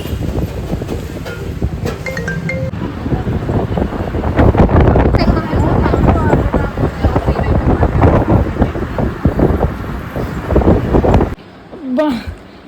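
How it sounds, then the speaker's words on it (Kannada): Wind blowing outdoors, a loud continuous buffeting rush across the microphone, with people talking over it before the gusting drops away near the end. "ಇವತ್ತು ಗಾಳಿ ಬಿಟ್ಟ ನೋಡ್ರಿ ಇವತ್ತು ಚಂದ ಅನ್ಸ್ಲತ್ತ ತಂಪ"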